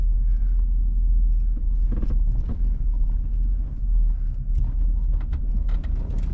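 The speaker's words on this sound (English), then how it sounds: "Just backing up the truck now." A truck slowly reverses with a trailer, its engine a low, steady rumble close by, with wind buffeting the microphone throughout.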